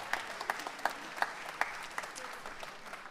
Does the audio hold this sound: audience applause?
yes